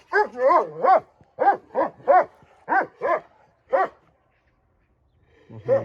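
A dog barks in a quick burst of loud, sharp barks, pauses, then lets out a few more separate barks, fairly close.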